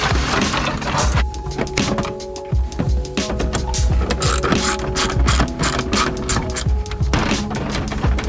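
Screws being backed out of the dash of a Chevy 454SS big block shop truck, continuous close ratcheting and clicking mixed with knocks and rattles of plastic and metal, busy and loud with no voices.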